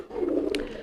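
A pigeon suffering from snot coos once, a short soft low call, fairly close, with a faint brief higher sound near the end.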